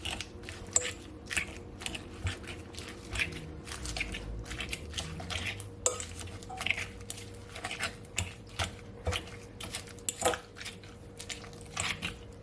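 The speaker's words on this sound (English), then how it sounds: "I'm gonna add my cream cheese to my spinach. Now I'm gonna mix it all in" Cream cheese being mixed into spinach in a bowl, a series of soft squishing, clicking strokes repeating in an uneven rhythm, fairly quiet and close.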